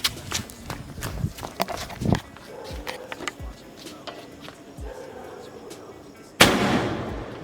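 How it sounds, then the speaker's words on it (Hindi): Sky shot fireworks set off late at night for a birthday celebration, a run of sharp pops and bangs at irregular intervals, ending in a loud burst, with voices around them. "स्काई शॉट को मैंने यहाँ लगा दिया है एंड 1 बज रहा है रात के। चलो जलाते हैं इसको।"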